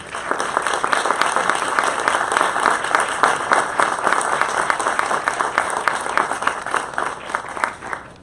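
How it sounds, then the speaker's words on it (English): An audience at a public charter school board meeting gives steady, sustained applause for a departing board member. The clapping is moderately loud and even throughout, with no talking over it. "Please join me in giving Darren a round of applause."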